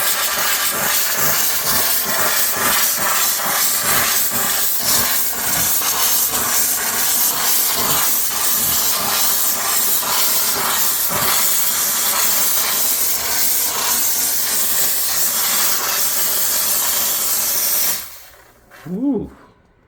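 A strong HOM steam cleaner blasts pressurized steam into a neglected oven, a loud continuous hiss running steadily for many seconds before cutting off abruptly, followed by a brief low rumble.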